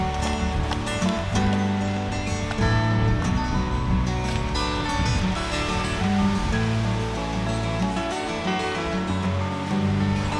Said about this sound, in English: you probably can hear it, but the wind, especially the last half an hour or so I was up there, was really picking up